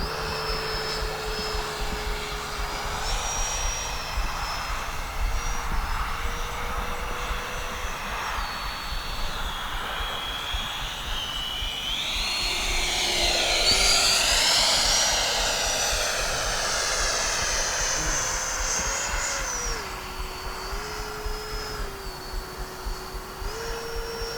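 An FMS F-18 Super Hornet 70mm electric ducted-fan RC jet whooshes overhead, a sustained whine that rises and sweeps in pitch as it passes close, then recedes and steadies at a distance.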